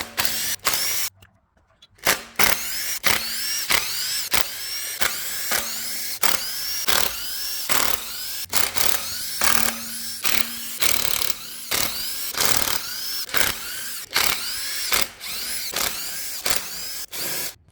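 A power tool whirs in repeated short bursts, each a second or so long, loosening the oil pan bolts on a Chevy S10 fitted with a VW diesel engine. The bursts are close and loud, broken by brief pauses.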